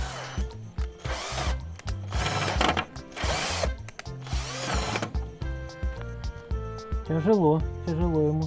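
A power drill drives a 32 mm self-tapping screw through 2 mm steel into a 25 mm wooden bar, in several loud straining bursts with pauses between them, while someone talks.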